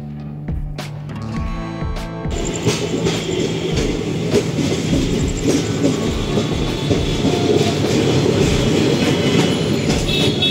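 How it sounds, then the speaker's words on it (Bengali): A train pulls away and settles into steady running, a loud continuous rumble with rhythmic clatter of wheels over rail joints. "নির্ধারিত টাইমে আমাদের ট্রেন ছেড়ে দিল।"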